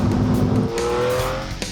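A Pagani Zonda sports car driving, its engine note loud and close with a deep rumble that shifts pitch into a higher, rising tone as it pulls away.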